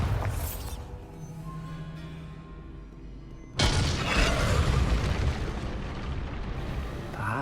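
A Bombarda spell goes off in Hogwarts Legacy, a sudden loud blast that erupts midway and leaves a dense, rumbling roar of debris after a quieter stretch of game ambience.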